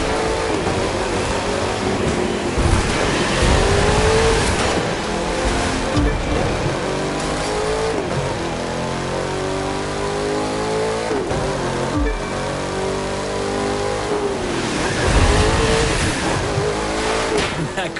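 In The Crew 2, a sleeper race car accelerates. Its engine drones loudly and continuously, rising and dropping in pitch through repeated gear changes, with a strong surge toward the end.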